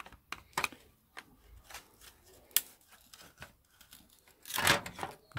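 A glued plastic strip is pried and pulled off a scrapped VCR in sparse, close tearing and crackling snaps, with quiet gaps between and a louder ripping burst near the end.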